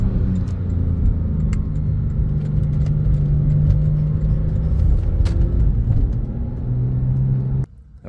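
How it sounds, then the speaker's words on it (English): A 2017 Porsche 911 Carrera 4S rumbles loudly from close by as it downshifts via paddle shifters, the engine note swelling and dipping with brief blips before the sound drops away abruptly at the end. "I'm going to use the paddle shifters to downshift here."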